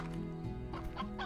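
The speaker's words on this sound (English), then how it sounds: "There's a lot of chickens here, isn't it?" Chickens cluck repeatedly in the Slime Rancher video game, with several short overlapping calls sounding close and steady over a constant low game background hum.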